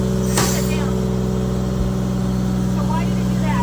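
A 1973 American LaFrance Pioneer fire truck engine runs steadily up close, with a low, even hum and a brief sharp burst near the start, while someone talks over it.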